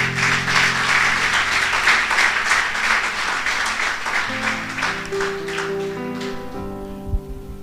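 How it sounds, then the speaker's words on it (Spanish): Sustained applause from a church congregation during a Sunday service, dense steady clapping that slowly fades as organ or keyboard notes come in underneath. "¿Cuánto le damos un aplauso al Señor?"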